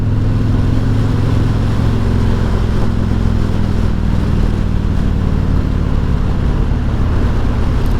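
A 2021 Harley-Davidson Freewheeler trike with an 1800 engine rumbles steadily while riding, a continuous loud low drone with wind noise running throughout.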